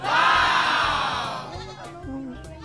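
Goats on a farm bleat, one loud, wavering cry up close, then fainter calls fading into background noise.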